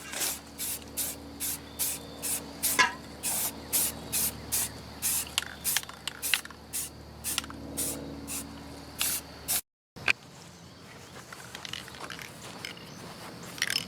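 A rattle can lays a green base coat on a homemade hang-on treestand in a long series of short, rhythmic hissing bursts. After a brief gap, a quieter stretch follows.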